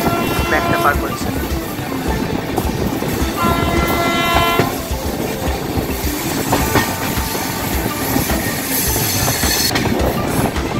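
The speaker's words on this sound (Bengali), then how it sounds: "দেখুন E7 লোকোমোটিভের সাথে আমাদের ট্রেন খুব সুন্দরভাবে ব্যাকটা পার করছে।" A train hauled by an E7 locomotive pulls out of Mathura Junction, loud and close, with a continuous rumble, rhythmic clickety-clack of wheels, metallic squeal and a horn blast.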